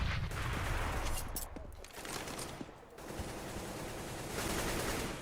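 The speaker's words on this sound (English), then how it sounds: "It's amazing to see this many bullets exchanged and no frags just yet." Dense, sustained automatic gunfire from a Counter-Strike match on the Cobble map, bursts overlapping almost continuously with brief dips, loud and close throughout.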